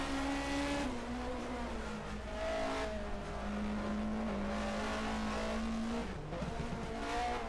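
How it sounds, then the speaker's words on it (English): A race car engine at the Zandvoort circuit drones loudly and steadily, its pitch dropping in stepped shifts as the driver downshifts, with continuous roar and tire noise filling the whole stretch. "Downshifting."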